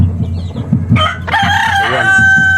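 A fighting-breed gamecock crows loudly and close in a small backyard poultry pen, one long cock-a-doodle-doo with hens clucking softly around it.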